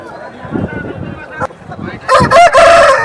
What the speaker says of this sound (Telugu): నల్ల కళ్ళు కలిగినటువంటి కోడిపుంజు